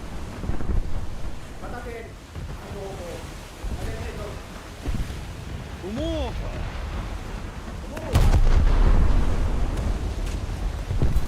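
Naval guns on the Tsugaru ship fire shells in a video game, heard as deep rumbling booms under wind-like noise, with a heavy blast near the end and some faint tonal effects.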